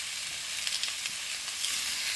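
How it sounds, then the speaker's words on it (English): Food frying in a hot pan gives a steady, bright sizzle that crackles on evenly throughout, close and fairly loud, with no voices over it. "that sizzle is a good sign"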